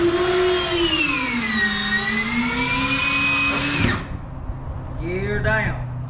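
Landing gear of a Beechcraft Baron B55 retracting during a ground test, a steady electric motor whine that rises and falls in pitch for about four seconds and then stops abruptly, followed by a brief clunk and faint mechanical noise.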